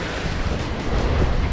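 Strong ocean waves crash against a rocky shore in a steady, loud roar of surf, with wind rushing across the microphone throughout.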